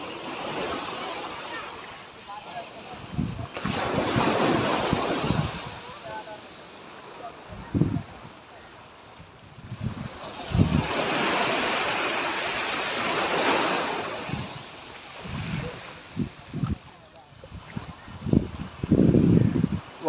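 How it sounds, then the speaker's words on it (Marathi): Ocean waves at Girgaon Chowpatty beach in Mumbai surge in and wash back in broad, loud swells, rising and falling several times, with brief voices and outdoor noise between them. "लाटा हे कमी जास्त होत राहतात."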